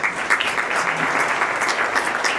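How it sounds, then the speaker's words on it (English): Dense, steady applause from an audience at a community summit fills the space, even and sustained throughout. "Let's give him a round of applause."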